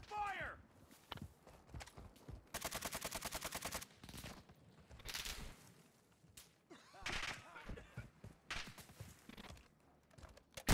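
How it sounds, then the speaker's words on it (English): Rapid bursts of automatic gunfire from a Call of Duty: Modern Warfare II duos match, aimed across a field at an enemy sniper, crackle in repeated loud volleys with footsteps in between and voices talking over the action. "Enemy snipe taking effective fire!"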